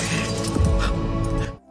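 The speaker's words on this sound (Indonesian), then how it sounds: "Dia memukul kaca mobil hingga tangannya terluka." Car window glass shatters under a fist in an Indian film scene, a loud crash with crunching, scattering fragments layered over dense soundtrack music, cutting off sharply at the end.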